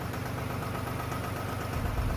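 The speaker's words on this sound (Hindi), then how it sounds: "ट्रैक्टर का आवाज सुनाता हूँ। आवाज कैसा है वो सुनते हैं।" A Mahindra Yuvo tractor engine idling, a steady low diesel rumble with even knocking pulses and a slight swell near the end, close and continuous with no talk.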